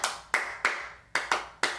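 Six sharp hand claps in an uneven practice rhythm, close and distinct, each with a quick decay and clear gaps between, tapping out a dotted note pattern for flute study.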